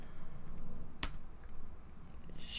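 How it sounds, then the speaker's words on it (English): Quiet computer keyboard typing, a few soft irregular key taps with one sharper click, faint and close with light room noise behind. "I'm kind of slow at typing at this angle."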